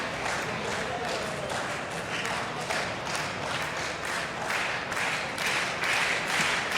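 Spectators at a padel match in San Sebastian give sustained applause, a dense, steady clapping that fills the whole stretch while a commentator talks over it.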